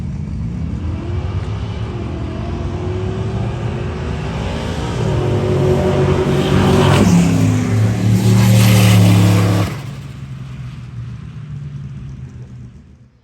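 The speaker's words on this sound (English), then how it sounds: "we'll get a cold start on the new coil packs" A car engine cold starts after Granatelli Extreme Pro coil packs are fitted, a loud close idle rumble that rises in a rev around the middle, then settles back down.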